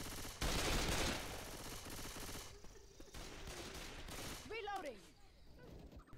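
Gunfire in the game CSGO during a bot match, played on a LattePanda Delta mini PC at low settings: loud bursts of shots early on, then quieter reloading clicks and a few later sounds.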